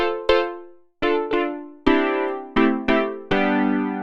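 TAL-Pha, an emulation of the Roland Alpha Juno synthesizer, plays a bright plucked patch with a complex envelope, a handful of notes and chords each striking sharply and ringing down, clear and alone.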